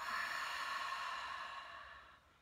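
A long, slow exhale through the mouth during a Kundalini yoga mantra meditation, a steady breathy rush that gradually fades over a couple of seconds, close and alone.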